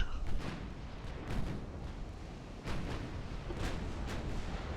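Battleship broadside artillery fire in the naval warfare game Ultimate Admiral: Dreadnoughts, with German ships in 1910: several heavy booming salvos at irregular intervals over a continuous low rumble.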